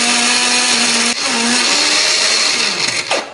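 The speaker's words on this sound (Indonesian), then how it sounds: "akan kita haluskan menggunakan blender" An electric kitchen blender grinds chilies with a little water or oil, a loud steady whirring drone that holds pitch, dips briefly as the load shifts, then winds down near the end, with no talk.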